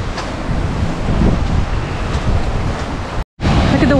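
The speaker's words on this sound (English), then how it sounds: "Look at the waves today." Ocean waves and gusty wind on the coast at Hammamet, loud, continuous surf roar mixed with heavy wind buffeting on the microphone, briefly cutting out near the end.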